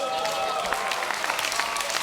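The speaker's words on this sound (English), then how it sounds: "Give them a round of applause." Audience applause after a street or stage act, a steady wash of clapping hands with voices mixed in, close and continuous for about two seconds.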